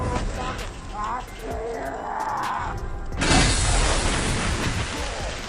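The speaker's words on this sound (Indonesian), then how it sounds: "si tua itu pun terkena bom molotov hingga tubuhnya meledak." In a video game, a loud burst of fiery blast noise from a Molotov bomb erupts midway, a broad roaring rush that follows quieter game sounds and muffled voices.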